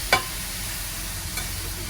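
Philly cheesesteak meat searing in a hot pan, a steady loud sizzle throughout with a quick scrape of stirring near the start and another faint one later.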